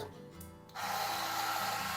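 A portable coffee grinder switches on partway through and hums steadily at close range, a bright whirring drone that starts abruptly after a quiet moment.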